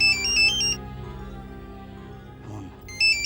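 A mobile phone rings with a bright, repeating electronic ringtone over a musical soundtrack, the tone dropping out mid-clip and then returning, with no talking.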